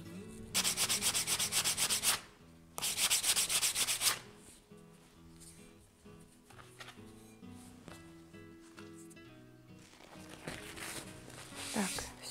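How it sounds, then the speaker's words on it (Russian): A sanding sponge rubbing over a decoupage-decorated glass bottle, two loud scratchy strokes early on followed by a quieter, broken stretch of rubbing and a final short burst, close up. "Пройдусь наждачной губкой."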